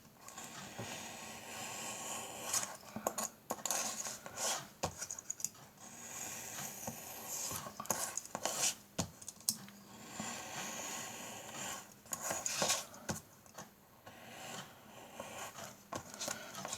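Cardboard being cut around a template by hand, with irregular scratchy scraping and clicking bursts at close range, fairly quiet and without speech.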